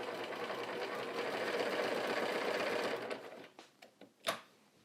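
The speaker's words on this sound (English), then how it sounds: "And I'm just going to sew a little bit." Sewing machine running a short straight-line quilting test through a pieced top and batting, a steady close whirring hum for about three seconds, then stopping, followed by a few soft clicks and handling taps.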